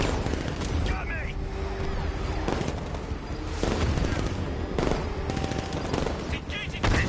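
Rapid bursts of gunfire and heavy explosive blasts in the Batman Arkham Knight video game, dense and loud, repeating in waves with brief lulls, while voices talk over the combat.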